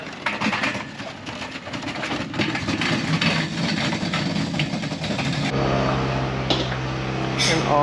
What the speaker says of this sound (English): the engine just ain't sounding like it should sound